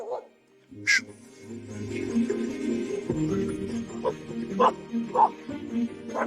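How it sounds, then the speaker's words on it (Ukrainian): A dog gives short, sharp yips, barks and whimpers in bursts, heard close by over steady background noise. People talk at the same time. "Забери собаку."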